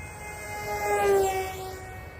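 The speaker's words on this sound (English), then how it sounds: "This is a very good flying airplane if you want to do FPV and that type of stuff." An RC model airplane flies past outdoors. Its motor gives a steady whining, harmonic drone that swells as it nears and fades as it moves away.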